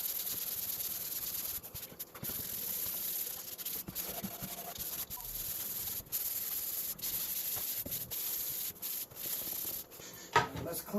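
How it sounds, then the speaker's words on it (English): A wooden fly tying station base is sanded by hand, giving continuous rough scratchy rubbing strokes with brief pauses, close and fairly loud, with no talk. "Now what we're going to do is we're going to sand it."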